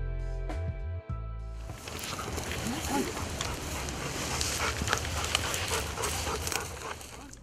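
Gun dogs searching broken undergrowth and grass on a pheasant shoot: brushy rustling and panting run steadily after a short tonal sound with a voice at the start.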